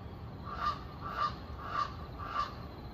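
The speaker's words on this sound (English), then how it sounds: "Here's some kind of odd bird nested up there on that water tower." A strange bird calls four times at an even pace from a nest atop a water tower beside a busy railway, each honk-like cry loud against a steady background hum.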